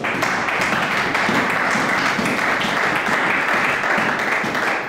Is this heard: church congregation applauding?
yes